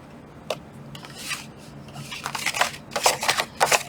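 Scissors make a few crisp, rasping cuts through paper, in short bursts that grow busier toward the end, close up.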